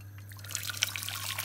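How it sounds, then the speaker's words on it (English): Water poured from a kettle into a pan, a soft steady trickle and splash running throughout at low level with no talk. "we're gonna place some water into my pan"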